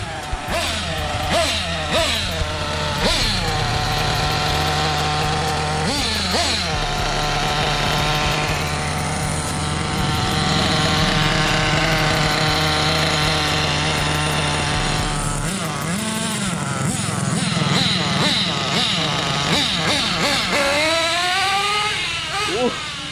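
Gas-engine remote-control car buzzing and revving on a busy road, high whining engine pitch rising and falling through repeated accelerations, with voices talking over it throughout.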